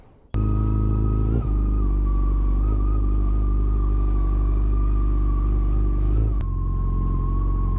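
A motorcycle engine starts and runs with a steady low rumble, close and loud, with a slight change in pitch partway through before it settles back to a smooth drone; no one speaks.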